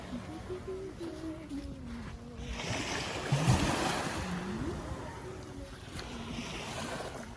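Sea waves wash onto a beach at Hua Hin, a steady broadband surge swelling in the middle and easing off, with wind and faint voices underneath.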